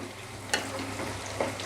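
Spice paste for kadhai paneer fries in a kadhai with a continuous close sizzle, broken twice by a sharp scrape of a stirring spoon against the pan.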